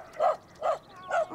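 A dog barks three times in a cartoon scene, short evenly spaced barks at moderate volume, with no talking over them.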